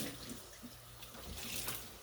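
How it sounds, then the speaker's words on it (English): Tap water runs steadily while a jar is rinsed under it, a quiet continuous splashing with a slight swell near the end. "I'll rinse out my jar so I can put my spoon in it"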